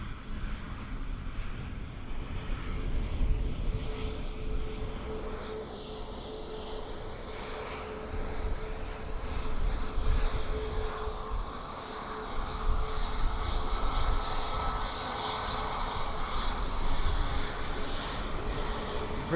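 A Ryanair Boeing 737 MAX 8 at Dublin Airport, its jet engines a broad, steady roar with a rising high whine, fairly distant and continuous, with some wind buffeting on the microphone.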